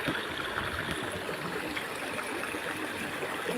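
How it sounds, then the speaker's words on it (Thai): Steady rushing, gurgling water flows continuously at moderate volume, a constant trickling wash with no voices. "ท่อไว้ให้น้ำไหล"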